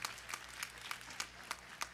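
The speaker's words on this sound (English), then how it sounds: "That's his grandmother clapping down front." Scattered hand claps from a church congregation during worship, faint and spaced in a loose rhythm of single sharp slaps.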